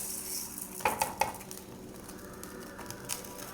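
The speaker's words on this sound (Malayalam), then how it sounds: "നമുക്ക് അരി ഇടാം." White rice poured into a pan for dry roasting, a few sharp metallic clinks and a pattering rattle of grains, followed by quiet scraping in a calm kitchen.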